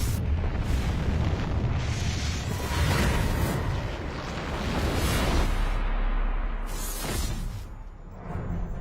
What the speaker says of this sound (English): Sir, we have a thermonuclear detonation approximately 30 miles northeast of Central City.